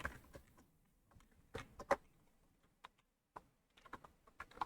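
Typing on a computer keyboard: sparse, quiet key clicks and taps in irregular clusters with short pauses, close and soft, no voice.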